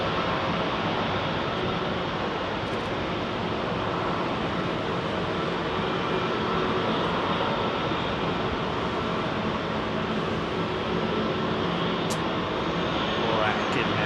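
A jet airliner climbs out after takeoff at Heathrow Airport, a broad continuous engine roar holding steady and loud throughout, with a faint rising whine toward the end.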